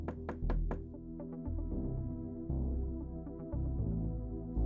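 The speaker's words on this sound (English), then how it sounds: "A sharp rap on the door echoed through the quiet apartment, shattering the stillness of the night" Three sharp raps strike an apartment door at the start, close and crisp, before a low, swelling dramatic music bed takes over and carries through to the end.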